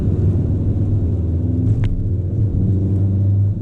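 A VW Golf R with a catless downpipe and Stage 2 tune cruises in normal mode around 2,000 RPM, giving a loud, steady low exhaust drone that fills the cabin throughout with no voices.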